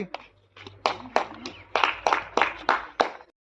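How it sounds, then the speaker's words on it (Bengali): A group claps in loose, uneven bursts during a lively Bengali money game, about a dozen sharp hand claps close by, mixed with talking voices. "একশো টাকা অনিমেষের জন্য হাততালি সবাই"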